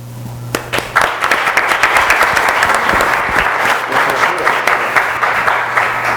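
A seated audience at a talk on money laundering welcomes the speaker. A few scattered claps quickly swell into loud, sustained, full-room applause that holds steady throughout.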